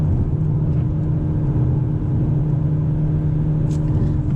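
A turbocharged Hyundai Elantra N with a 6-speed manual drives steadily, heard from inside the cabin as a constant low engine drone and road rumble with no speech.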